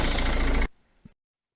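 Mercedes Vito W639 diesel van engine idling steadily and close by for just over half a second, then cutting off abruptly, followed by a brief faint thump and silence.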